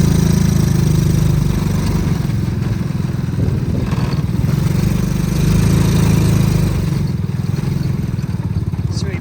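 A mini Jeep's small engine runs at a steady, buzzing, mower-like drone with light clatter during a tight turn on a road, loud and continuous throughout.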